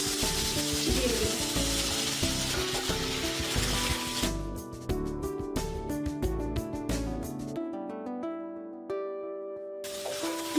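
Chicken and fried egg go into a frying pan where onion is sautéing in ginger-garlic paste for a restaurant-style Chinese vegetable dish. A loud, steady sizzle mixes with scraping stirs before the hiss drops away abruptly near the end.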